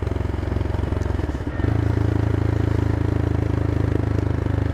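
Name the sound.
CCM Flat Tracker motorcycle engine and exhaust riding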